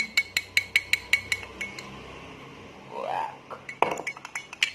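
A metal spoon stirs a syrup mixture in a drinking glass, clinking against the side in a quick rhythmic series of bright chimes, then a brief swishing pause and another burst of clinks.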